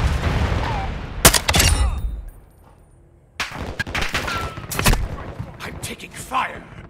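Bursts of heavy gunfire from a friendly gunship circling overhead in the video game Call of Duty, loud repeated volleys with a short lull in the middle, set over battlefield noise.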